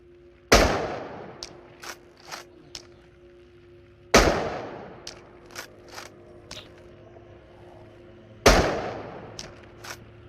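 A firearm fired at a shooting range: three loud, sharp gunshots about four seconds apart, each with a ringing decay, and quieter metallic clicks and pops in between.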